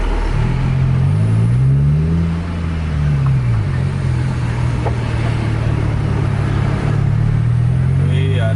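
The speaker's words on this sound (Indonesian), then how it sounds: "Wih, ada truk rupanya." A truck rumbles past on a road in Aceh, its engine droning and shifting pitch as it goes by, loud and close over steady road noise.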